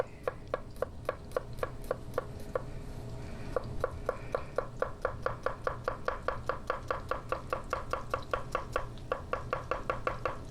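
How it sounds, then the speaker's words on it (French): Garlic is chopped with a knife on a board in a home kitchen: steady, rapid, close knocks in a long regular series, with brief pauses, over low kitchen hum and no talking. "Je vais prendre un petit peu d'ail. On va la hacher."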